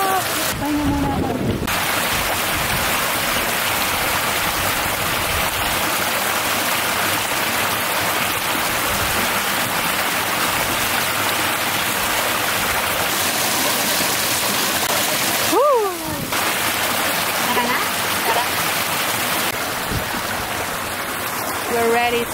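Stream water flowing at Charco de la Virgen in Tolox, Spain, a steady close rushing wash throughout, with brief sharp interruptions and faint voices in the background.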